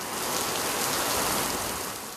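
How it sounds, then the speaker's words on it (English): Torrential rain from Hurricane Matthew pouring onto the streets of Kingston, Jamaica, a dense, steady roar of downpour with no voices. "bringing torrential rain to the streets of Kingston"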